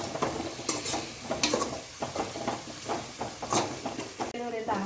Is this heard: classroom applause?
no